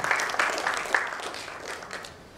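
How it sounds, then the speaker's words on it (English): An audience at a digital banking panel applauds briefly, a moderate scatter of claps that gradually fades away. "Can we please give a round of applause"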